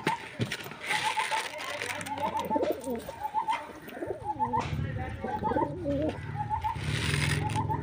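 Domestic pigeons coo repeatedly while being fed, soft throaty calls coming in close overlapping bursts throughout, along with rustling and flutters and a person talking nearby.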